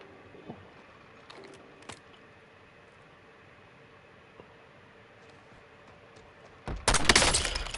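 Warzone video game combat: faint scattered shots pop at a distance, then a loud, dense burst of rapid gunfire erupts close by and fills the final second.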